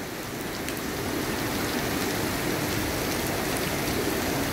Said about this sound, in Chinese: 突然间下大雨喽